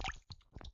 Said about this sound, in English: Water splash!